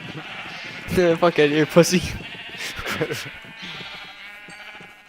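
Sheep in a farming video game bleat repeatedly and loudly in a close cluster, overlapping a voice speaking at the same time.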